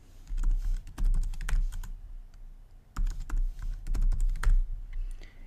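Keys clack on a computer keyboard as a password is entered, two close bursts of rapid, uneven taps separated by a short pause, with no talking.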